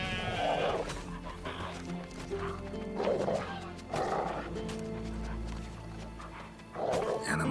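Goats and sheep in The Witcher 3 bleat in repeated bursts a second or so apart, fairly close, over a low ambient drone with some hoof-like clatter between calls.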